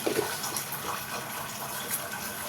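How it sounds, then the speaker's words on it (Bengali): Water at a rolling boil in a pot on a gas stove for tea, a steady close bubbling hiss with no talk. "এই যে জলটা টমক করে ফুটে গেছে"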